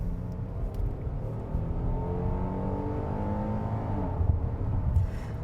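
A 2020 Kia Telluride three-row SUV engine revs in sport mode, rising steadily in pitch toward high RPM, loud and close, alone and without talk.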